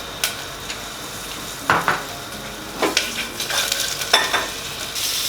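Tomato paste sizzles and fries in a hot pan among charred, caramelized vegetables, with several sharp stirring scrapes and clinks of a utensil against the pan over a steady hiss, no talking.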